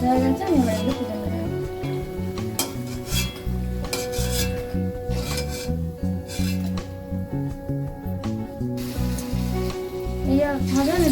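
Small potato pakoras frying in hot sunflower oil, a steady close sizzle with occasional clinks of a utensil against the pan, while someone talks over the cooking.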